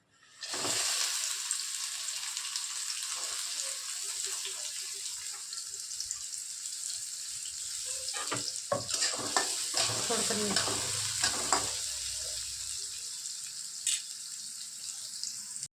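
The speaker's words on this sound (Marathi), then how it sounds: "तेल गरम झालेलं आहे आपलं आता टाकत आहोत कांदा" Chopped onion dropped into hot oil for a tempering, a sudden loud sizzle that settles into a steady crackling fry close by, with stirring scrapes and clatter partway through.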